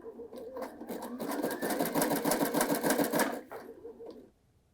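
A Baby Lock Sashiko sewing machine stitching fabric with a lengthened stitch, running in a steady rapid mechanical whir and clatter for about four seconds before stopping.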